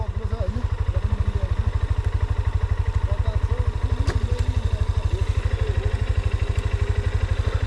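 A motorcycle engine chugs in a fast, even rhythm close by, holding steady throughout, with faint voices in the background.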